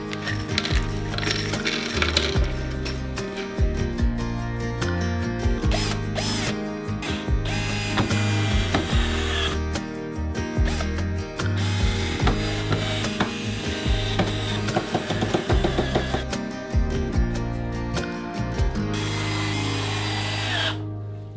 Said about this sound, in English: first of all I want to get all of this pinned together now with some screws